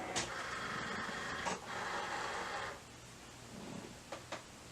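A Cricut Explore One cutting machine whirs and buzzes steadily close by as its carriage moves across a sheet, with a few clicks and short mechanical shifts before it settles to a lower hum.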